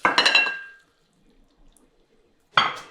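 Thick minestrone soup with pasta poured from a pot in a home kitchen, two short splashy bursts of liquid separated by a quiet pause, close and fairly loud with no talking.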